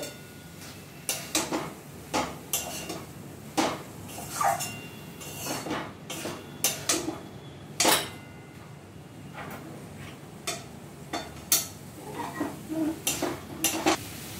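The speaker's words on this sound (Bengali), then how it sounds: "দিদি এবার এঁচোড়টা সব মশলার সাথে সব মশলার সঙ্গে এঁচোড়টা খুব ভালোভাবে মিশিয়ে দিচ্ছে" Raw jackfruit being stirred with spices in a metal pan, spoon scraping and clinking against the pot in irregular bursts, close and fairly clear with faint sizzling underneath and no talk.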